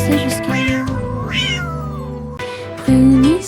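A cartoonish cat meows repeatedly over a bouncy, rhythmic children's dance song, the mewing rising and bending above steady music with a louder meow near the end.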